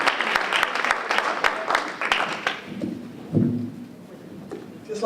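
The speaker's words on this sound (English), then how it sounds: "Let's give Reverend Moore another round of applause for that prayer" Applause after a prayer at a women entrepreneurs' conference, a crowd's clapping that rises and then fades within a few seconds, with a voice speaking as it dies away.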